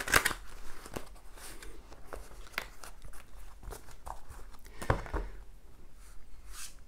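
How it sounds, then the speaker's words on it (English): A tarot card deck being cut and shuffled by hand, with several crisp riffling and tapping bursts spread across the clip, close and fairly quiet, with no talking. "Now, let's get on with cutting and shuffling the deck for the reading."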